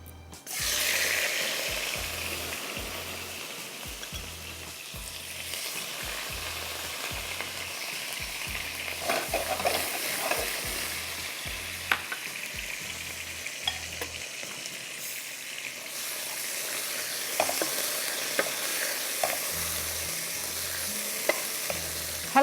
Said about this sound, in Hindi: उसके बाद हम इसमें प्याज के लच्छे डालेंगे